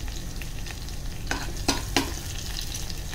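Crushed garlic sizzles in hot oil as a tempering for a Malvani prawn curry, a close, steady frying crackle broken by a few sharp stirring scrapes, with no talk.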